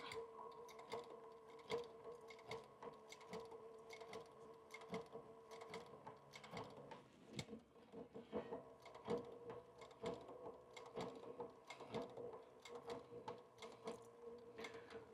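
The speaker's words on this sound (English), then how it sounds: "We're just going to sew back around to our original point." A sewing machine runs almost nonstop, stitching around a flip-top shave kit case with a quick, steady mechanical ticking and whirring, close and fairly quiet, with one brief break partway through.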